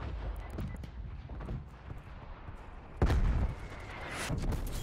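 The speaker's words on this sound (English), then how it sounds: "Hey, teammate, shoot your gun." Gunfire in the video game Call of Duty: Cold War crackles in scattered bursts, with a louder burst of shots near the middle that stays busy to the end.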